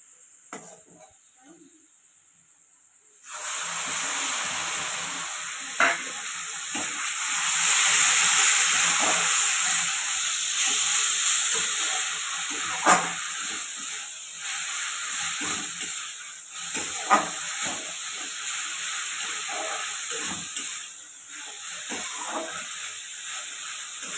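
Ginger-garlic paste and chopped onions sizzle and fry in a pan for Bengali ghugni, a steady loud hiss broken by occasional scraping stirs, close up and continuing without speech.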